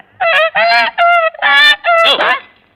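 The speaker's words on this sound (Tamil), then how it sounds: "இத பார்த்தா உனக்கு வாத்து மாதிரி தெரியுது" A duck in a Tamil film scene gives five loud, harsh quacks in quick, uneven succession, close and clear with no voices around them, the last call trailing off.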